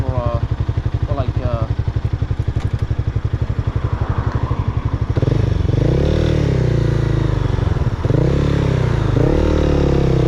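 A motorcycle ridden at night along Rodeo Drive in Beverly Hills chugs with a rapid, throbbing idle and then revs up and pulls away in rising, close, loud surges.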